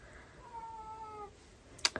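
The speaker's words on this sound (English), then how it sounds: "That's my cat meowing." A single drawn-out cat meow, fairly faint against a quiet room, followed by a couple of sharp clicks.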